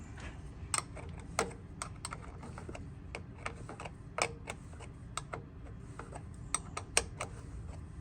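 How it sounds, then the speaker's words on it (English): Sharp, irregular clicks and ticks from working on a golf cart solenoid, tightening a wire, come up near and crisp over a low steady hum, spaced unevenly across the stretch with no talk. "So then I'm gonna take it and finish tightening the wire up."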